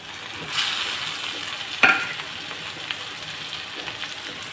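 Potatoes frying in a pan before eggs go in, a steady close sizzle and crackle of oil broken by a couple of sharp stirring clatters, one louder knock midway.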